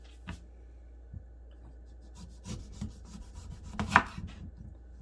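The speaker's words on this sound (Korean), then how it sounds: "그리고 레몬 껍질을 좀 까보도록 하겠습니다." Lemon peel being cut away with a knife on a board while preparing scallop steak, giving scattered soft scraping and rubbing strokes, close and fairly quiet, with one sharper louder cut near the end.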